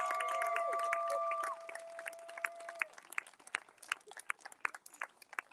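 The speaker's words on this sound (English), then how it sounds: "Let's clap it up one more time." Crowd applause at a vigil, starting as steady clapping under a sustained electronic tone and thinning into scattered, uneven claps that die away.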